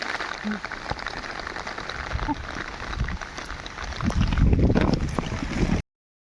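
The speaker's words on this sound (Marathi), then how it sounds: "चालू आहे बाहेर पाऊस." Steady rain pattering outside, a constant hiss of drops with a heavier rumbling burst toward the end, and faint voices in the background.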